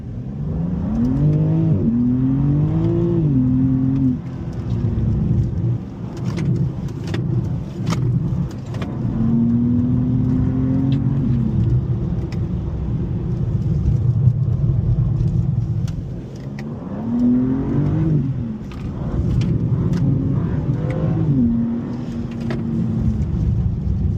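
BMW cars from the M driving school run hard around a track in Spartanburg, South Carolina, engines repeatedly climbing in pitch through the gears, easing off into turns and accelerating again, loud and continuous from inside the car.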